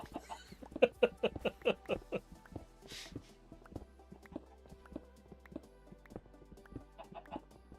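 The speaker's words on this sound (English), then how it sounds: "Nothing like egg-laying chickens." Hens clucking in a run right after laying eggs, a quick string of sharp, fairly close clucks at the start, then sparser calls over a steady low background.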